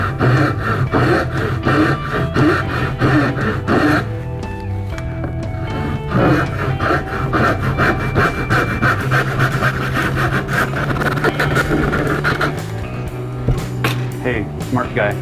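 A hand saw cutting a wooden stave for a 30-stave snare drum, with rhythmic rasping strokes close up through most of the clip and a pause partway, under someone talking.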